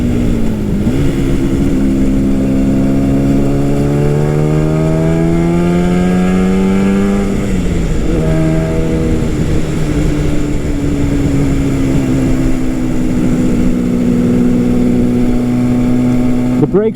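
A 1969 Yamaha R3 350 two-stroke motorcycle engine climbs through the revs in one long sweep, dips as it shifts, then settles into a steady buzzing drone, continuous and fairly loud throughout.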